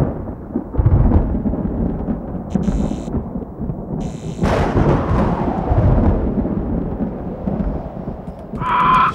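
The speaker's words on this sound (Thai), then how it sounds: "พายุจะเข้าอีกแล้วเนี่ย" Thunder from an approaching storm rolls in loud and close, a long rumbling roar with a sharper crack midway that trails off into continuing rumble.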